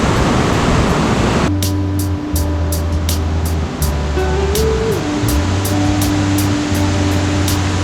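Water spills over rocks as a waterfall on the Bharathapuzha river, making a loud, continuous rushing roar. Steady low tones and faint periodic clicks run underneath.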